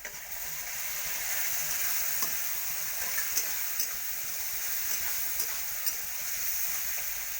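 Fish frying in a pan with vegetables, a continuous bright sizzle and crackle held at an even level throughout, with small occasional pops and scrapes and no talking.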